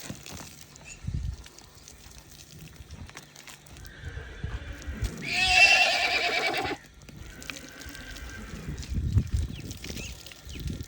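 A horse whinnies loudly in a single drawn-out call, with shuffling hooves and scattered movement noises before and after.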